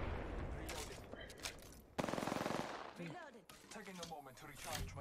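Rapid automatic gunfire from the video game Apex Legends, loud and continuous bursts with a dense run of shots around the middle, broken by short pauses and mixed with other game sounds.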